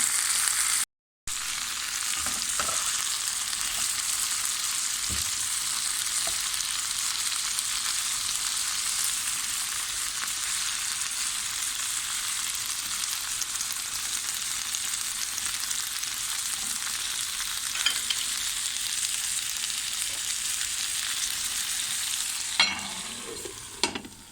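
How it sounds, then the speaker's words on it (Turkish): Fresh broad beans fry in a pan with a long, even sizzle, while a utensil stirs them with occasional soft scrapes and a few clinks toward the end, close up and with no voices. "güzelce karıştırıyorum."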